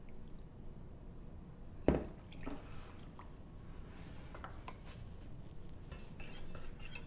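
A utensil stirs cornstarch and water together in a pan to make homemade paint. Soft, faint scraping and light clinks go on throughout, with one sharper knock early on and no talking.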